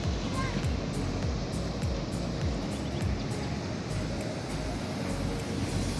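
Sea waves washing over rocks at low tide in Baler, a steady loud roar of surf with repeated rushing surges close by, no talk heard.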